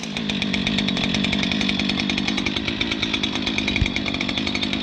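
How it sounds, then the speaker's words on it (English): A commercial grade gas string trimmer runs at high revs, a loud continuous buzzing two-stroke engine drone with a steady rattling pulse, close and without talk. "I think it's a good trimmer, and it is a commercial grade"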